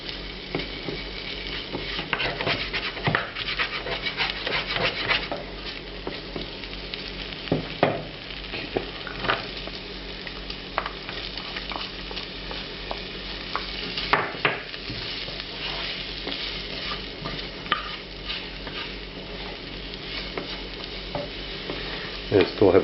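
Bacon, red onion and garlic frying over medium heat, a steady close sizzle with frequent spoon stirs and scrapes against the pan running throughout.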